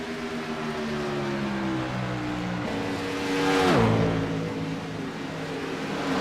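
Stock car engines drone in a steady layered roar at a Michigan oval race, then one car sweeps past close by with a rising, swelling pitch that drops sharply as it passes.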